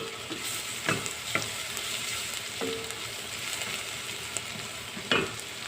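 Onions frying in a pan for Arabic-style fish mutabaq, a steady soft sizzle with a few sharp stirring scrapes and taps, close and without voices.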